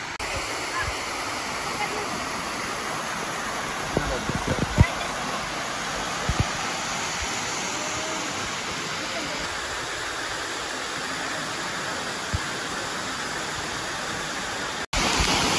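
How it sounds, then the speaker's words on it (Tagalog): Can-umantad Falls in Bohol, Philippines, a waterfall giving a constant broadband rush of falling water, steady and close, with a few brief knocks and faint voices mixed in. "Canumantad Falls."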